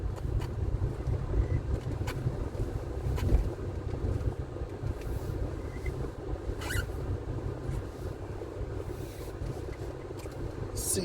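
A vehicle travels a bumpy rural road in a farming community in Tryall, St. Elizabeth, Jamaica, giving a continuous low rumble with occasional knocks and jolts plus some wind noise.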